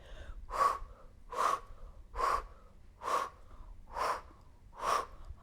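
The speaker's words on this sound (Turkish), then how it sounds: "Nefes aldım ve nefes verdim." Rhythmic breathing during a fat-burning workout routine: six even, close breaths in a steady cycle about every 0.9 seconds, each a soft airy rush, with no talking.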